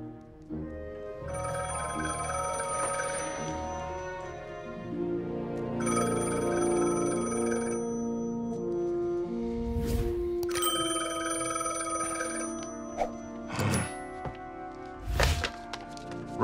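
A telephone rings in repeated bursts of bright, musical tones, fairly close, broken up by a few hard wooden thumps near the end, with no talking.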